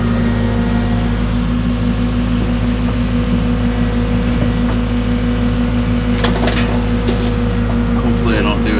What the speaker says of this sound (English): First time ever moving dirt with this truck.